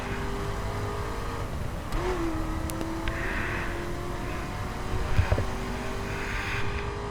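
A Chevrolet Camaro in a racing video game gives a muffled, steady engine drone heard from the interior view as it pulls along a circuit, with faint tonal shifts as it accelerates.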